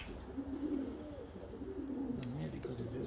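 Pigeons of the karaca and sabuni breeds coo nearby in a loft, a soft continuous rolling murmur of overlapping low calls, with people talking at the same time.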